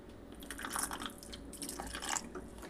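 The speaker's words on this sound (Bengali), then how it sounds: "একটু সামান্য জল দিয়ে দিলাম।" A little water is poured into a spice mix of green chilli for hilsa curry with eggplant, a soft, brief trickle and dripping close by in a quiet kitchen.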